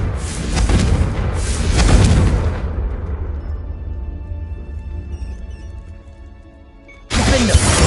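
In Hogwarts Legacy, a Confringo fire spell goes off with a loud, deep booming blast that swells, then fades into a long rumbling tail before another sharp burst hits at the end.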